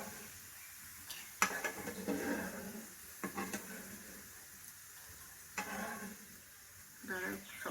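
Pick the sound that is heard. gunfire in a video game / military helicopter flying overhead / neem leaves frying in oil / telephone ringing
neem leaves frying in oil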